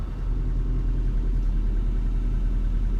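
Honda CRX with a B16 engine swap and GSR head and transmission rolls onto a driveway, its steady low engine rumble idling loud and close without a break, no voices.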